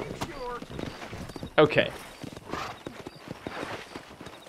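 Horse hooves clip-clop in the Red Dead video game, a run of close, crisp hoofbeats with one sharp louder burst partway through, while someone talks over them.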